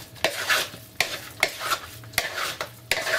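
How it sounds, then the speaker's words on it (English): Spoon stirring chicken satay sauce with sweet soy sauce in a pan, steady scraping strokes with sharp metallic clinks roughly every half second over a light sizzle, close and moderately loud. "Now we're going to give this another stir,"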